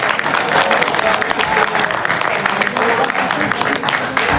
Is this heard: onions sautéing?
no